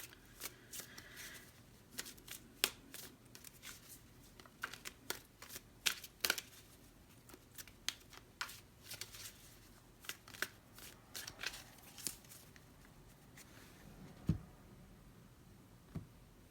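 Tarot cards are shuffled by hand, quiet repeated riffling bursts and soft slaps in an irregular rhythm, close and alone.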